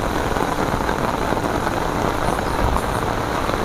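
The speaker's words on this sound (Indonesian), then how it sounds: "Dan hujan semakin deras." Heavy rain pouring in the forest on Mount Welirang, a dense, loud, unbroken hiss of drops pattering on leaves and ground, steady from start to finish with no voices.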